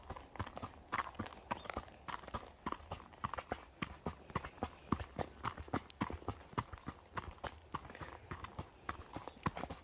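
Hooves of a horse ridden bitless around Lake Kainui in the Waikato clip-clop in a steady, close, regular rhythm throughout, with no talk over them.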